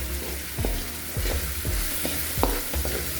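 Capsicum pieces stirred and fried in hot onion oil, a loud close sizzle broken by repeated scraping stirs of the spatula.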